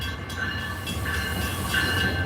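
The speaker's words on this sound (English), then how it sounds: "Fucking train sound." A train passes nearby with a steady loud rumble and rolling wheel noise, plus high metallic squeal tones rising and fading over it, no talking.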